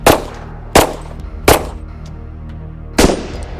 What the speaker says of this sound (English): So now we're gonna fire multi-shot engagement with a 230 grain gold dot hollow point. 45 ACP suppressed.